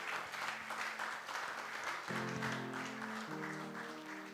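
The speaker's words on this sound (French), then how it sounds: "Est-ce qu'on peut acclamer notre Dieu?" A church congregation applauds and cheers in praise of God, sustained clapping from a crowd at moderate loudness, while an organ or keyboard plays held chords underneath partway through.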